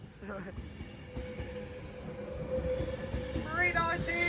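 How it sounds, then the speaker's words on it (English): A train pulls into a platform at Stoke-on-Trent station, a low rumble building as it nears, with a long wheel squeal and a brief high screech near the end. Voices are faintly heard. "And the train now arriving into platform"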